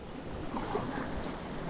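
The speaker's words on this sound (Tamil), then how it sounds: "பாருங்கள் தண்ணி ரொம்ப ஆக்ரோஷமாக உள்ளே வருது." Water surges strongly through the mouth of Pulicat Lake, a brackish lagoon, as a faint, continuous broadband rush and wash with no voices.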